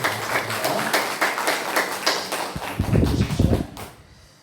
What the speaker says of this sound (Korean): 우리 박수로 축하드리겠습니다